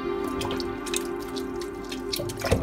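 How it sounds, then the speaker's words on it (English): Cow skin being washed in water, with steady dripping and light splashing close by, a faint constant hum underneath and a slightly sharper splash near the end. "So I'm done washing the meat."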